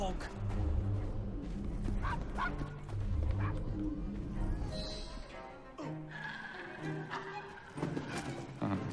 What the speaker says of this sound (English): Stole a fucking dog in a bag. He's not really gonna get too far away. I can hear the dog. Shut up, dog.